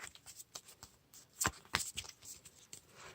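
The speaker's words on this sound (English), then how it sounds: "So, shuffle this up." A deck of game cards being shuffled up close during a solo tabletop game, with a quick series of soft riffling slaps and snaps, fairly quiet, with a couple of sharper clacks in the middle.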